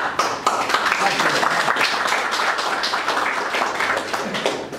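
Applause and clapping from an audience welcoming a Greek politician, former minister and New Democracy leadership candidate, a dense patter of many hands sustained throughout, with a speaking voice mixed in.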